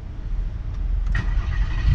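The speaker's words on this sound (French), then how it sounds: "On démarre là comme ça que j'entende juste le bruit du démarrage comme ça." A Volkswagen Golf 5 R32 engine starts up nearby: a short crank followed by the engine catching into a steady low idle that swells slightly louder toward the end, with no talking.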